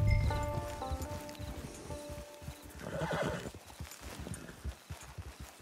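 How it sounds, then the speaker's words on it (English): A horse in the video game Red Dead Redemption 2 gives a loud neigh and whinny, then its hooves clip-clop in a slow walk, close up, with ambient outdoor sound. "It's your horse."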